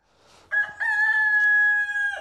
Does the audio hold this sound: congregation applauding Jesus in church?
no